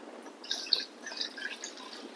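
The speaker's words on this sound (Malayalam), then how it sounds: "നമുക്ക് പുളി വെള്ളത്തിലിടാം" Light, scattered splashes and drips of water as tamarind is dropped in, a few soft plops close by, with no talking.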